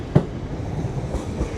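An LNER Azuma train rolls through Doncaster station on the East Coast Main Line, a steady rumble of wheels on rail with a few sharp clicks over joints, fairly close.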